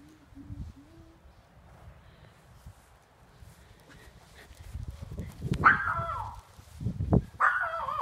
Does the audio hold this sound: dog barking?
yes